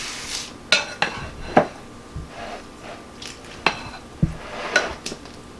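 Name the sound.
tossing zoodle, chickpea and avocado salad with dressing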